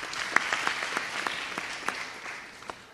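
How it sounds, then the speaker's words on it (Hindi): Audience applause at a political interactive session on Lok Sabha elections, a moderate, fairly distant patter of clapping with scattered sharper claps, slowly thinning out over a few seconds with no voices over it. "जरा ताली बजा दीजिए।"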